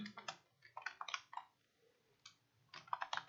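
Someone types on a computer keyboard while entering Excel cells, soft key clicks coming in short quick bursts with brief pauses between, quiet and close.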